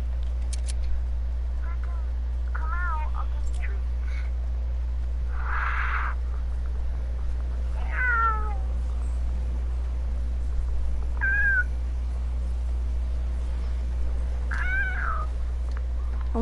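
A person imitates a cat by meowing with their mouth, several separate meow-like calls spread across the stretch over a steady low hum, with some talking mixed in.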